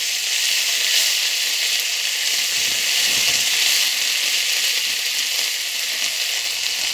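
Green chili and onion paste sizzling loudly in hot oil in a pan, a dense continuous hiss-like frying sound that stays even throughout, with faint stirring and no talk.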